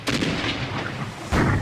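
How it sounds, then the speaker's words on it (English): Two cannon blasts from a small island setting, each a loud, close, broadband boom, the first at the start and a second heavier one near the end, with no voices. "The rowdies had so much fun firing off those cannons"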